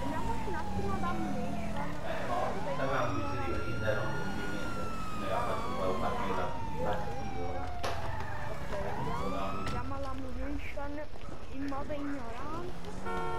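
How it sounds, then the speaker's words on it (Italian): Police car sirens wailing in Grand Theft Auto V, a continuous rising and falling electronic wail sweeping up and down across the whole stretch, loud and close, with game sounds and people talking over it. "quando accendo le sirene"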